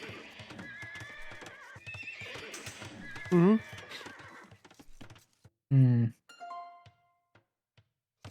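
A horse neighs loudly twice at a stable in a medieval strategy video game, with hoof clip-clops in between, while someone talks over the game sounds.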